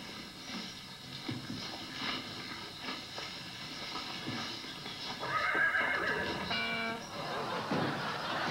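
A horse at home whinnies loudly and repeatedly, its neighs rising over a busy background with some clopping and voices.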